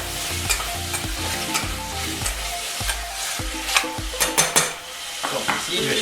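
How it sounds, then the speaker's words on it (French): Beef cubes browning in a hot pan, a steady sizzle broken by repeated stirring and scraping knocks, with a few sharp clinks of utensil against pan near the end, close and moderately loud. "Faire attention de bien dorer notre cube de bœuf."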